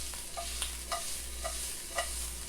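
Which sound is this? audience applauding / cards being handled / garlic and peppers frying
garlic and peppers frying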